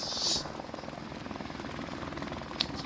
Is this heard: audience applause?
no